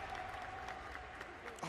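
A live crowd at a Street Fighter 6 tournament final applauds and cheers, a steady wash of clapping heard at a distance and fairly quiet.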